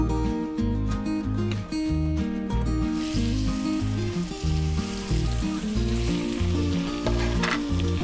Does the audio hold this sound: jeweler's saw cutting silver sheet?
no